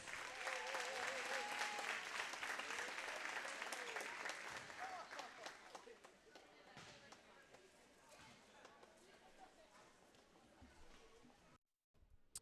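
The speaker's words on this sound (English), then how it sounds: "And now a final round of applause for the parents of these special seniors." Sustained applause from a crowd in a school gym at a senior night for varsity girls' and boys' basketball, honoring the seniors' parents; loud and steady at first, then gradually thinning, with some voices and cheers mixed in.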